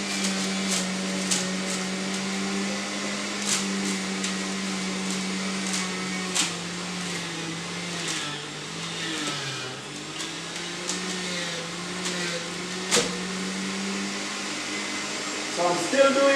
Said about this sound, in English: So I'm still doing kale. My juice making machine.